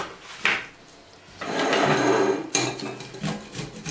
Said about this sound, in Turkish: Soğanlar kavrulurken domateslerimizi rendeliyoruz.